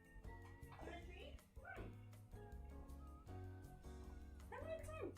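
A dog in The Sims 4 video game yips and barks a few times over constant game background music, with short whimpery calls at the start and the end.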